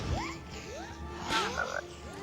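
Frogs croak in a Harry Potter video game, a few rising, bubbly croaks repeating close by over a low ambient game hum, with a brief brighter chime partway through.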